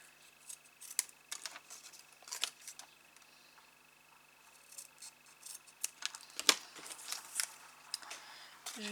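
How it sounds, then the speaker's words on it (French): Scissors snip through material while shaping a pushed-cascade floral arrangement, a scattered run of crisp, close cutting clicks and small rustles that comes in irregular bursts, quiet between cuts. "Donc là, bon, je vais couper au ciseau."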